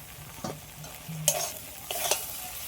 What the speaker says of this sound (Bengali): সবগুলো একসাথে একটু হালকা করে এইভাবে নেড়ে চেড়ে নেবো।